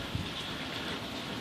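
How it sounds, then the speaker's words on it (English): Rain falling outside a home brewhouse on a wet day, a steady even hiss of drops with no pauses, moderately loud and continuous, with no voices over it. "It's a rainy day"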